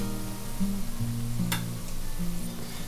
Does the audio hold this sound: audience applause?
no